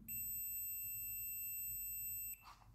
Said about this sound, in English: You now can see there is a clear beep